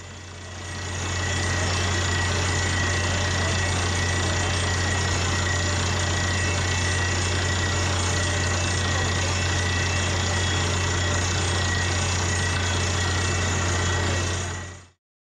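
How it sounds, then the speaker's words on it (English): A loud well-drilling truck engine runs steadily at a constant idle-like drone, a deep continuous rumble with a droning hum that holds unbroken for about fourteen seconds before cutting off. "Unfortunately, the truck is so loud that you can't hear anything that he says to me here."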